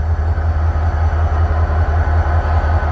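Heavy freight train rumbling steadily close by, a deep continuous low roar of rolling gondola cars crossing the Ohio River, with Illinois Central and Grand Trunk locomotives nearby; no voices.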